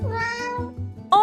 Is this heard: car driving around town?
no